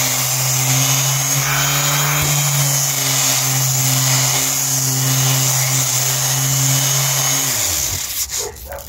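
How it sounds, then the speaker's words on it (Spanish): An orbital sander fitted with new carbon brushes whirs with a loud, steady motor whine close up for about eight seconds, then winds down and stops near the end. "Vamos a ver si esa era la causa de por qué nuestra lijadora no andaba jalando."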